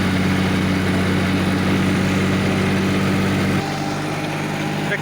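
A John Deere 5310 55 hp tractor working a field with a super seeder under heavy load, a loud, steady droning engine hum that drops slightly in pitch and level near the end.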